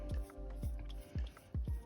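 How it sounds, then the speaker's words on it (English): A watercolor brush lays clean water onto paper in gentle sideways strokes, giving soft wet squishing dabs about four times in under two seconds, close and quiet, with no talking. "I'm using my clean water and I'm just applying it on the"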